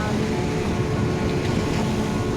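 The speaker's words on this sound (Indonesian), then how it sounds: "ombak mulai menerjang lagi" Ocean waves surge in over the feet on a rocky beach at Tasikmalaya, a steady, loud wash of churning water and wind rumble that fills the whole short stretch without letup.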